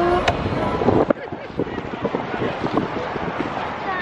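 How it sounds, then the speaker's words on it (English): Wind blowing outdoors in Odaiba, Tokyo, a steady rushing buffet across the microphone with gusty bumps and a few brief thumps, loud and continuous throughout. "it's a little windy here in Odaiba"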